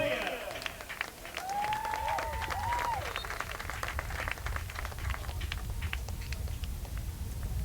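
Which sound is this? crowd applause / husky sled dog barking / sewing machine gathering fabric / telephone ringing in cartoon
crowd applause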